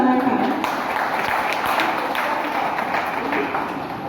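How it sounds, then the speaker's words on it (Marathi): Applause from a school alumni get-together audience, a steady dense clatter of many hands filling the hall and fairly loud, with a voice briefly heard at the start. "एकदा जोरदार टाळ्या"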